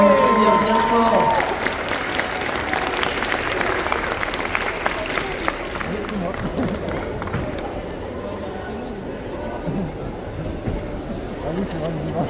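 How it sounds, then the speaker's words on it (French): Audience applause at a cosplay contest during a Japan-themed convention, sustained clapping and crowd noise throughout, with a voice talking briefly at the start. "On peut l'applaudir bien fort."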